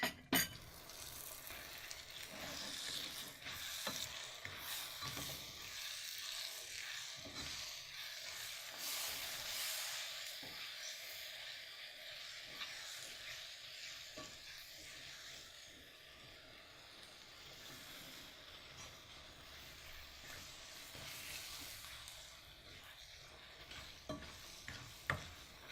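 Cookie dough with a beaten egg mixed in a skillet, a continuous soft stirring and scraping with occasional clinks of the utensil against the pan, steady and fairly quiet, with no talk.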